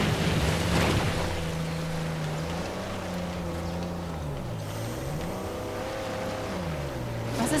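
A vehicle engine drones and revs with rising and falling pitch while driving through mud in Uncharted 4, steady and close with a churning, rumbling texture underneath.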